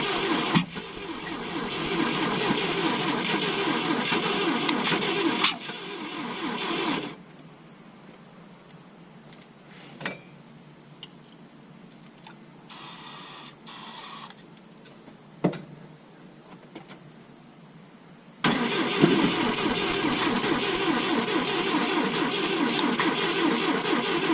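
A 1972 Volvo 145 engine cranks over sluggishly as it is tried for a start, with loud, steady churning bursts at the beginning and end separated by a quieter stretch with a high whine.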